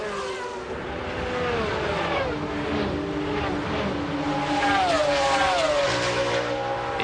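Porsche 911 GT1 race cars at Le Mans in 1996, their engines a loud, continuous roar with rising and falling pitch as the cars pass close by, backed by steady track noise.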